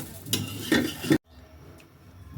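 Onion paste and garam masala going into a hot pan, with loud scraping, stirring clatter and sizzle for about a second before it cuts to near quiet.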